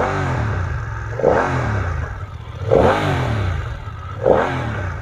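BMW F900R motorcycle engine idling with three sharp revs spaced about a second and a half apart, each rising and falling back, close and steady with no talk.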